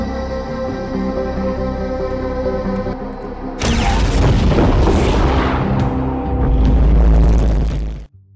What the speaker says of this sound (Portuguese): Para uma explosão tão grande,